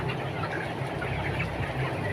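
A flock of 22-day-old broiler chickens clucking and murmuring steadily, a dense continuous barnyard chatter with no talking.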